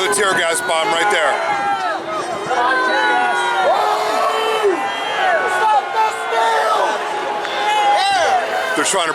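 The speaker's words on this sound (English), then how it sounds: "The crowd is yelling, "Fight for Trump," as the tear gas bombs are going off" Protest crowd outside the US Capitol during the 2021 Washington riot, many voices yelling and chanting together in loud, dense waves with whoops and scattered shouts, continuous and close.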